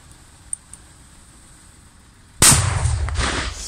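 A 200-gram firecracker set off outdoors, a sudden very loud blast after a quiet stretch with a couple of faint pops, followed by a long noisy roaring tail of echo and debris.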